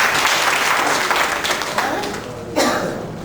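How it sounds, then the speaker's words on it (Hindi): Applause from a seated audience at a community review meeting in a hotel hall welcomes an elderly guest, a dense wash of clapping that holds steady and thins toward the end. "जोरदार तालियों से इनका इस्तकबाल कीजिए"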